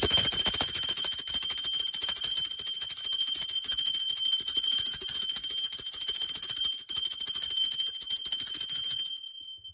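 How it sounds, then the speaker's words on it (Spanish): A bell rings steadily and clearly on its own, with sustained bright tones that hold for most of the stretch before fading out at the end. "Va campana"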